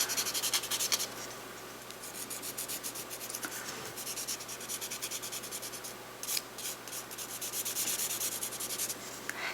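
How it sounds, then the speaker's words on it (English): Buffing side of a nail file worked over fingernails in a manicure: close, quiet, rapid back-and-forth rubbing strokes repeat in a steady rhythm, with brief pauses between passes. "I'm going to take it to the buffing side and I'm going to buff them all"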